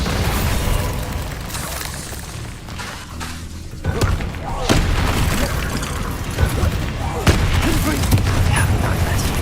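Booming blasts from the Bombarda spell in the video game Hogwarts Legacy thud and crack amid dense, loud game noise, with several sharp impacts spread across a continuous roar of combat effects.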